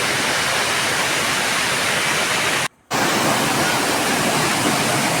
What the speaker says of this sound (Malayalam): അവിടാണ് മൂന്നാമത്തായിട്ടുള്ള വെള്ളച്ചാട്ടം കാണുന്നത്